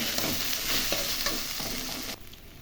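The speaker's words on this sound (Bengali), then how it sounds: "দেখো চিড়া দিয়ে দিলাম, এখন ভাজা ভাজা করব।" Soaked flattened rice (chira) is stirred and fried in a pan, giving a continuous sizzle with repeated scraping strokes of a spatula. The sound drops away abruptly near the end.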